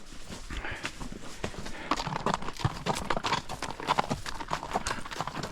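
Horse hooves clip-clop at a steady walk along a trail during an afternoon ride, close and continuous, with a few rustles and no talk.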